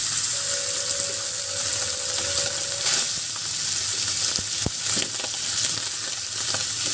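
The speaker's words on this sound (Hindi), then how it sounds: "तो अब हम इसमें राइस ऐड कर देंगे।" Steady loud sizzling of rice going into roasted cumin in a hot pan for jeera rice, a continuous frying hiss with a few faint clinks and stirring sounds.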